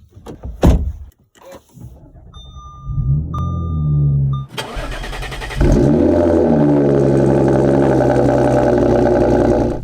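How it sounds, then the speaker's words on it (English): An Audi S5 sports car engine cold-starts, cranking and catching with a loud roar, settling into a steady, throaty high idle after a few clunks and a brief whirring chime. "The cold start is just so aggressive and loud"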